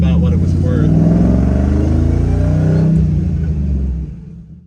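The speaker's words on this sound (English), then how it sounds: "The tow truck drives" Tow truck powered by a supercharged Hellcat LS engine driving, a loud steady engine rumble close by that fades out toward the end.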